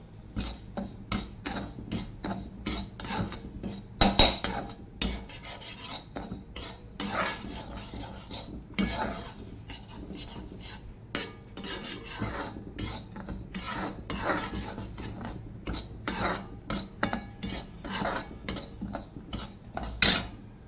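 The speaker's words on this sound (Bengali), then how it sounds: "এবারে সুজিগুলোকে ভেজে নেব।" Semolina being fried in ghee in a kadai for upma, with frequent scraping and clinking of a metal spoon against the pan in an irregular stirring rhythm, close and moderately loud, with a soft sizzle underneath.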